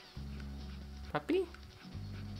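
Short yelp or bark from a puppy in Spyro the Dragon, heard under steady game music and ambience, with a brief rising whine after a sharp hit.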